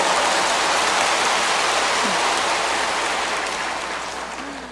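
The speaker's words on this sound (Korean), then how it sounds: "박수를 하려고 하면 화끈하게 해버리지." A church congregation breaks into vigorous applause during a sermon on Genesis. The clapping is a dense, rain-like wash that stays loud throughout and tapers slightly toward the end, with no voices heard.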